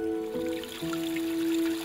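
The Todorova river flows through old forest, giving a steady, close trickling and gurgling with a constant even hum of moving water.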